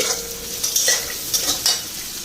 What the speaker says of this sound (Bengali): এখানে তিতা ভাজাটা বসাইলাম তিতা কলাটা আগে মচমচা করে ভেজে নি